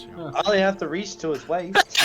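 A person sneezes near the end of a stretch of ongoing conversation, a single sharp burst after spoken words.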